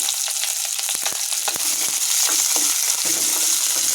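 Chopped onion hisses and sizzles in hot oil with popped mustard seeds and curry leaves for a veg kurma, a loud, continuous close frying crackle with occasional sharper spatters and stirring scrapes.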